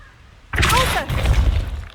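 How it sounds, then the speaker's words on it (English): A Repulso spell impact in Hogwarts Legacy hits as a sudden loud burst after near silence, a sharp crashing thump followed by a lingering rumble and scattered debris-like clatter. "Repulsor!"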